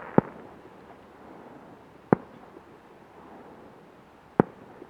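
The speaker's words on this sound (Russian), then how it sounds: "Салют-то был у нас в честь монетки, а не в честь дня рождения." Three sharp, distant firework salute bangs go off at spaced, irregular intervals, each a single crisp crack over a quiet outdoor background with faint wind.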